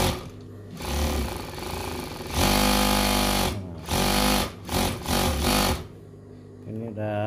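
A sewing machine runs smoothly after servicing of its noisy, jamming feed dog plate, in loud continuous bursts of rapid stitching separated by brief pauses, with a person talking between runs.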